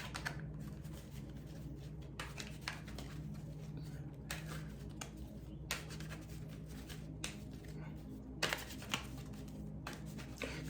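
Cards being shuffled in quick, soft riffling bursts repeated several times, close to the microphone, with faint background hum and no talking.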